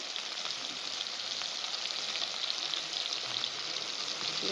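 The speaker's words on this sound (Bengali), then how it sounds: "টমেটোটা নেড়ে দিচ্ছি" Chopped tomato sizzles steadily in hot oil for a mustard tilapia curry while it is stirred, a dense, even frying hiss with faint scraping, no voices.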